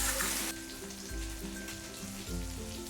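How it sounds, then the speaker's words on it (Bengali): Chicken sautéing with meat masala in a pan, a steady bright sizzle over a low rhythmic background pattern, no voices. "মিট মশলাটা দিয়েও আমি ভালোভাবে কষিয়ে নিচ্ছি।"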